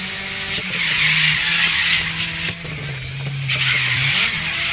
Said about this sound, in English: my car just cannot hold on to the road